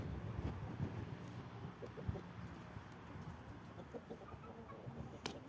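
Plymouth Cross Silver laying hens imported from Europe cluck faintly in a coop, scattered low calls over a steady background hum.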